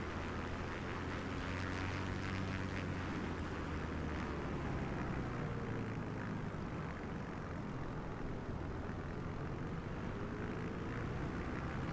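A fixed-wing aircraft cruising at altitude over the Indus and Zanskar valleys in Microsoft Flight Simulator 2024. The engine gives a continuous, loud, even drone with a steady low hum, and no one speaks.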